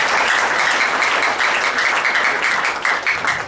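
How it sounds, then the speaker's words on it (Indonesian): Loud, dense applause from a large audience at an Indonesian agent and team gathering, steady and continuous throughout with no voices over it. "Tepuk tangan buat semua."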